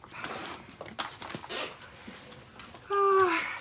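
Dogs whimper and yip indoors as they run through a room cluttered with shopping boxes, with soft scuffling in between and a louder, sustained whine near the end.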